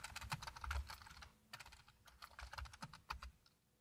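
Typing on a computer keyboard while a long answer phrase is entered into a text property, heard as a quiet, close run of quick irregular key clicks alone, with no voice.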